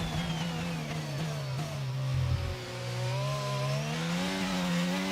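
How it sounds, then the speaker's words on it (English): Revving Honda V6 power unit of a Red Bull Formula 1 car in a racing video game, a steady high-pitched engine note that rises and falls with throttle through the whole stretch, loud and alone. "we should have a listen to the Honda engine as well. On the Red Bull"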